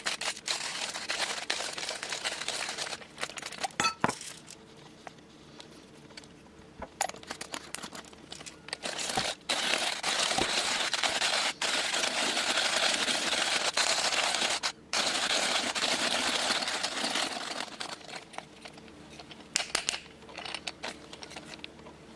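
Coffee beans being ground in a Vivaant manual hand grinder, a steady crunchy, crackling grind that runs nearly throughout with brief pauses, close and fairly loud, with no talking.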